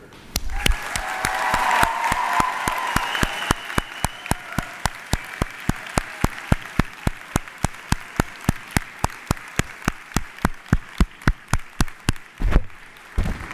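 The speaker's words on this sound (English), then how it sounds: "join me in giving a heartfelt round of applause and cheers" At a university education faculty's spring convocation, a crowd's applause swells briefly and then settles into a loud, sharp, rhythmic unison clap, evenly spaced beats repeating steadily for over ten seconds.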